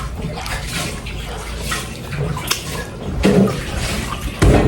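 Water runs steadily from a tap while chestnuts (châtaigne) are washed, a close splashing rush with a few brief louder gushes and clunks.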